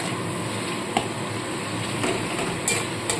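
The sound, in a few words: stirring ground spices with tomato and sugar in a pan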